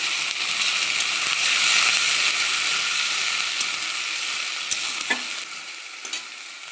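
Spice paste with ground whole cumin sizzles and fries steadily in a pan for a chicken and potato curry, with occasional stirring scrapes and a quieter hiss toward the end.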